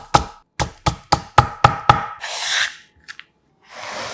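A knife slices a carrot into thin strips on a cutting board, seven quick, sharp chops in a steady rhythm, followed by a scraping rasp, a couple of light taps and another scrape.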